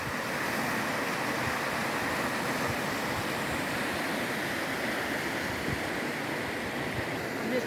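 River water rushes steadily along Sognefjellet Pass in Norway, a dense, unbroken roar that stays loud and even throughout, with no voices.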